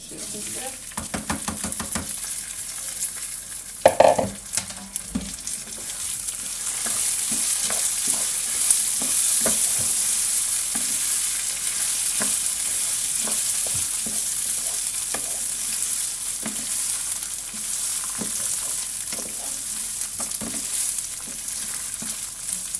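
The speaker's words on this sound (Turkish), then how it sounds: "şimdi şehriyerim kavruldu. Pirinçlerimi ilave edeceğim." Vermicelli roasts in a pan, then rice is tipped in and stirred, giving a steady dry sizzle and frying hiss with scraping utensil strokes and a loud clatter early on, continuing evenly to the end.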